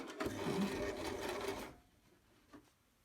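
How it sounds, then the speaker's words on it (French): A sewing machine stitches fabric for a cloth basket, whirring steadily and loudly up close for about a second and a half before stopping, followed by a faint tap. "Et on va coudre tout autour jusqu'à notre second repère."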